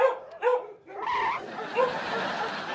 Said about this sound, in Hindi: डॉगी को हटाओ।